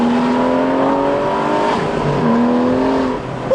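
Loud, close roar of an Aston Martin V12 Vantage S Roadster's V12 engine revving hard, the pitch climbing, dipping through quick gear changes, then climbing again with continuous intensity.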